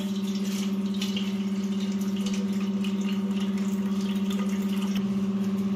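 Hot water runs steadily as it is drained off soybeans, over a constant low electrical hum; no voices.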